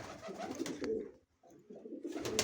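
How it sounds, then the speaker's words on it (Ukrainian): Pigeons cooing softly in an evening dovecote, a few low murmuring coos that break off briefly mid-way and resume, fairly quiet and heard alone. "трошечки минутку покажу голубів. Що вони роблять зараз"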